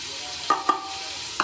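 Finely chopped onions sizzle softly in a pan with washed chicken for a homemade desi chicken gravy, punctuated by three sharp metallic spatula clinks.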